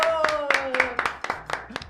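A few people clap in a Spanish-language streaming studio, a short burst of distinct, fairly close handclaps under ongoing talk, with a voice speaking over the claps.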